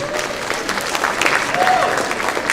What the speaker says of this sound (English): Give yourselves a round of applause for showing up tonight